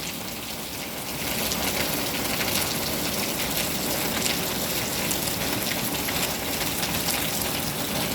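Steady, dense rainfall pours without pause on a grey hillside morning after raining all night, a loud unbroken hiss that swells slightly after the first second, with no voices.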